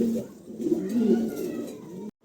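Pigeons coo in a short, soft, low burst, close and steady, ending abruptly in silence.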